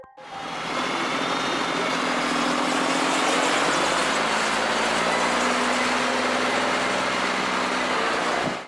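A crawler tractor's engine drones steadily and loudly while the machine drives across a field, a continuous close rumble with a tonal whine that holds for the whole stretch, and no voices.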